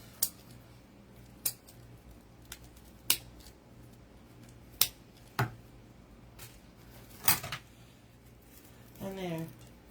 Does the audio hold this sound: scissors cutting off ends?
yes